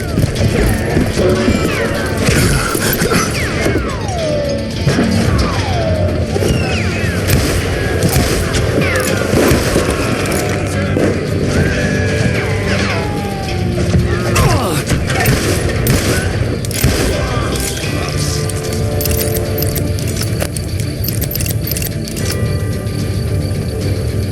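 Dense, continuous gunfire and crashing impacts from the Western shooter game Call of Juarez: Gunslinger, loud and layered with bursts and booms throughout, with shouted game dialogue mixed in.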